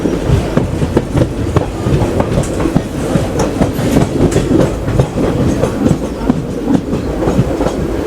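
The 17408 Pamani Express from Mannargudi to Tirupati, running via Tiruvannamalai, rumbles past loud and close, wheels beating a steady clickety-clack over the rail joints.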